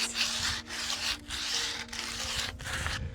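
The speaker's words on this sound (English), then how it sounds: "I just want to scrape some areas more than others" Wood surface scraped by hand to give a distressed finish, producing rhythmic rasping strokes of about half a second each, close and steady with short pauses between them. Nobody speaks.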